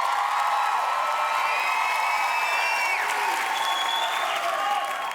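A live TV talent show studio audience on The X Factor UK applauds and cheers. The crowd noise is steady and dense, with scattered high whoops and whistles rising above the clapping.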